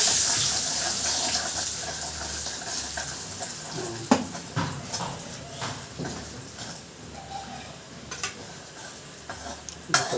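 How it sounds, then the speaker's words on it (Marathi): Drumstick pieces are sautéed with chilli powder and turmeric in a home kitchen: a steady hiss of sizzling oil with irregular scraping and clinking stirs, fairly close, no talk. "आता आपण याला परतून घेऊ चांगलं."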